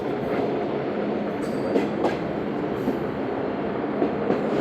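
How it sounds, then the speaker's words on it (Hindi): The Allama Iqbal Express approaching Okara station in Pakistan, a loud, continuous rumble of rolling wheels and carriages close by, with faint rhythmic clacks over the rail joints and no voices. "डाउन में 10 डाउन अल्लामा इकबाल एक्सप्रेस भी अप्रोच कर रही है"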